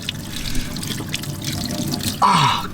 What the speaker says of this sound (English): A tap with 60-degree boiling hot water coming out of it.